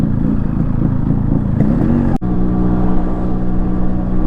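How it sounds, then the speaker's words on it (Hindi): A motorcycle engine idles steadily on a very steep downhill road with the clutch held in, giving a loud, close, continuous rumble with a brief dip partway through. "बहुत ज़्यादा ढलान है, इंजन स्टार्ट रख रहा हूँ बस,"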